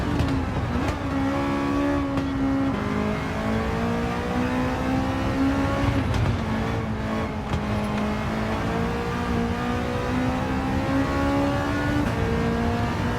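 A Honda race car in Gran Turismo 7 revs hard and steadily, its engine note a loud, continuous whine that rises and falls through the gears with no talking over it.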